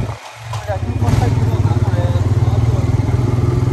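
A motorcycle engine close by revs up and settles into a loud, fast, steady pulsing throb after a brief quieter moment, with people talking over it.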